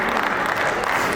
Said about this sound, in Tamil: நம்ம அவை புலவருக்கு ஒரு பாராட்ட கரகோஷம்.